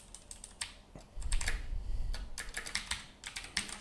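Fingers tap on a computer keyboard in uneven bursts of rapid clicks, close-up and fairly quiet, with a low muffled thump partway through and no voices.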